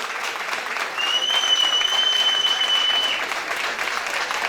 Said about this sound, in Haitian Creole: nous faisons applaudissements soutenus pour moi pour Joe Charles